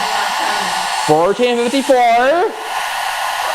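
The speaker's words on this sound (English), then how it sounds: "Oh yeah, this kettle and this hair dryer. Let's try it at the same time." Hair dryer and electric kettle running together off a portable power station, a steady loud whooshing hum throughout while someone speaks briefly over it.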